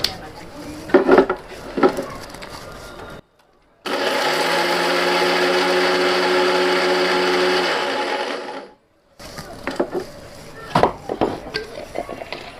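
An electric mixer grinder whirs continuously for several seconds while blending garlic for chutney in a home kitchen, a loud steady motor drone that starts and stops abruptly, with clattering and handling sounds on either side.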